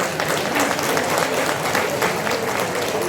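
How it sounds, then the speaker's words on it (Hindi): A crowd at a rally claps for the West Bengal team, producing continuous, full applause from many people throughout, unbroken by speech. "उनके लिए तालियां होनी चाहिए"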